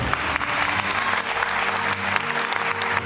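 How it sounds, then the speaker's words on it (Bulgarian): Studio audience on a TV game show breaking into continuous applause, a full crowd clapping steadily and fairly loudly, with some faint background murmur beneath it. "Знаеш ли защо пляскат?"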